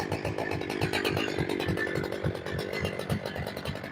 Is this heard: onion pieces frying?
no